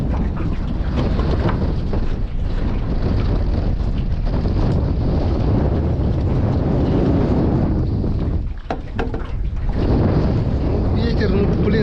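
Strong wind roars steadily across an open lake around a small fishing boat, buffeting the microphone with continuous low rumble and a brief lull near the end, with faint water slapping underneath.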